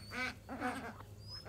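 Several ducks quack near a duck house, a few loud, close, raspy calls in quick succession with a faint background hum.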